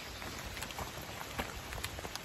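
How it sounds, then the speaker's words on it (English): Rain falling on a hiker climbing uphill, a faint steady patter of drops with scattered sharper taps on a jacket or nearby surfaces, quiet and close, no voices. "hiking uphill in the rain"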